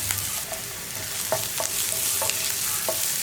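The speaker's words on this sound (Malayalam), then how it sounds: "ഉപ്പ് ചേർത്ത് സവോള ഒന്ന് വഴറ്റി കഴിയുമ്പോൾ" Onions with salt sauté in a hot pan, a steady sizzle punctuated by several scraping spatula strokes stirring them around.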